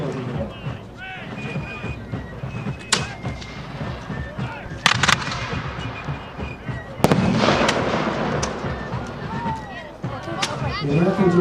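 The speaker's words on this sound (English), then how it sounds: "They're firing back. These guns are firing solid iron cannonballs." Muzzle-loading artillery firing solid iron cannonballs at the Battle of Bunker Hill, heard as several sharp booms and cracks scattered over a battle scene, with a narrating voice running underneath.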